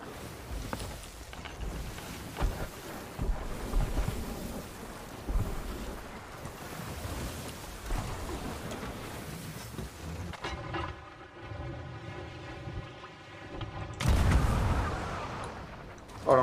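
A ship's cannon fires at a fort from a sloop in a pirate game, heavy booming shots amid constant wind and sea noise, with a loud blast near the end.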